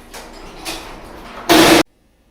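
An electric garage door opener raises a garage door with repaired springs: a low mechanical rumble with brief surges swells into a short, loud burst of grinding noise, then stops abruptly into silence.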